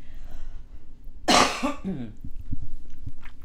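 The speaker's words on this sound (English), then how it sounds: "I am going to have to cough." A single sharp cough close to the microphone, followed by a brief throat-clearing rasp in an otherwise quiet room.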